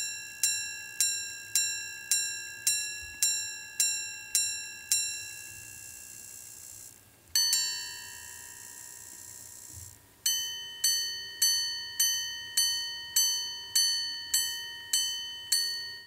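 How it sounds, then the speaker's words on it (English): A Jacob & Co Opera watch minute repeater strikes its gongs: a run of evenly spaced low chimes, a paired quarter strike, then a faster series of higher minute tones, each ringing and decaying, clear and alone. "And as it is chiming, you can clearly see the gongs and hammers working their thing."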